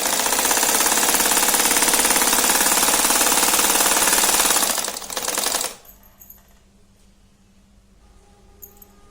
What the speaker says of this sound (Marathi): असं 2-2 इंचाच्या याच्यावर अशा आडव्या उभ्या शिवून घेऊ, शिलाई घेऊन घेऊ